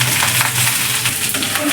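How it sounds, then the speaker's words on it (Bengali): Chopped onion and garlic frying in hot mustard oil, a steady dense sizzle with faint stirring clatter throughout, close and fairly loud with no talking. "এর মধ্যে আমি অনেকখানি কুচি কুচি করে কাটা পেঁয়াজ কুচি, রসুন কুচি দিয়ে বাদামি রং মতো ভেজে নেব।"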